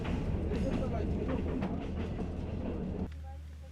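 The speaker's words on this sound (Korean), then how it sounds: "간이역을 이제 지나는 모습입니다" A train on the line to Pyongyang rolls past a small rural station, with a dense rumbling, rattling roar of wheels and carriages that drops sharply near the end, heard from on board over a loud, steady background.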